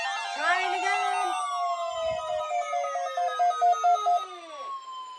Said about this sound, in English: The preceding signals were a test of the public warning and alarm for transmitters